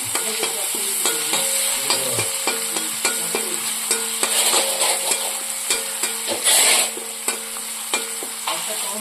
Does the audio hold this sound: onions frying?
yes